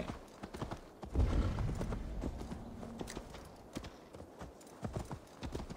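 Hooves clip-clop in a quick galloping rhythm close by, with a horse's snort and faint game sounds in the background, from the video game Assassin's Creed Valhalla.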